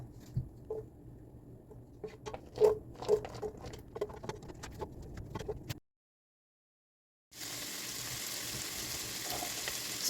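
Butter, onion and garlic sauté in a pot: soft patters and stirring scrapes first, a brief pause, then a steady bright sizzle that carries on to the end.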